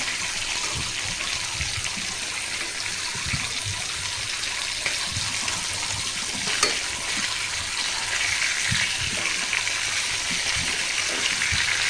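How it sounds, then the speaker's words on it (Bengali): Fish frying in a pan with dried chillies, a steady close sizzle and crackle with occasional stirring scrapes and soft spatters, continuing evenly throughout. "মাছটাও কিন্তু ভাজা হয়ে যাচ্ছে"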